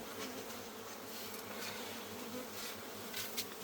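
Small honeybees swarm at a hive kept in a clay pot in the Chalan Beel area, giving a continuous, fairly faint buzzing hum with a few closer, louder passes near the end.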